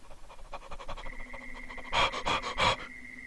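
A voice imitates the frantic, panicked panting of the Cry of Fear video game enemies, with a run of quick breathy gasps that grows louder and harsher toward the end.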